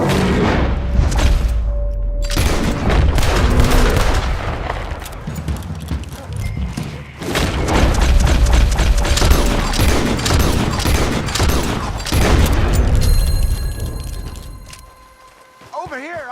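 Gunfire during a bear hunt in Red Dead Redemption 2, with repeated loud shots and bursts over horse hooves, a whinny and an agitated voice, amid game music and ambient effects.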